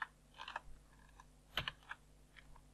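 Quiet, sparse typing on a computer keyboard: scattered single keystrokes and short bursts of clicks with pauses between them, close but soft, with no talking.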